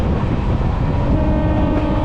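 MEMU passenger train running between Tambaram and Villupuram, a steady loud rumble of wheels and carriage noise heard from on board, continuous with no voices.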